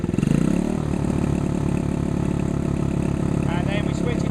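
A Monkey pit bike engine with a 5-pin adjustable CDI held at its rev limiter in restricted mode gives a buzzing, stuttering drone that rises briefly then sits at a constant pitch, cutting out in rapid regular pulses, close and loud.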